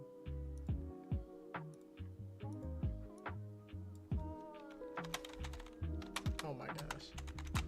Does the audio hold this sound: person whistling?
no